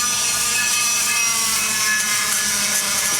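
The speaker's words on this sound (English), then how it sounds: "the sander broke in a little bit before you continue to go down and cut your aluminum" A handheld sander grinding down an aluminum LS engine exhaust port gives a loud, steady, high whirring rasp that holds unbroken for about three seconds, with no voices.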